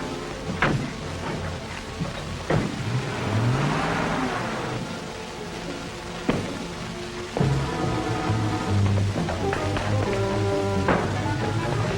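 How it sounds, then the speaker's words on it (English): A vintage late-1930s car engine revs and accelerates, surging several times amid steady rain with rumbles of thunder, no voices. "I'll follow in my car."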